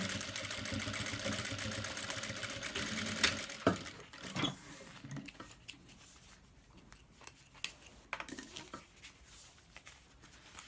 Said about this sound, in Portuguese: E vou novamente costurar com 1 centímetro.